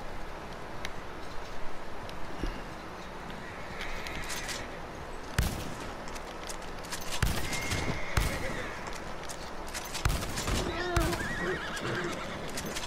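Horse whinnies from the video game Red Dead Redemption rise several times over a dense, noisy background of clattering and scattered gunshot bangs, with voices talking now and then.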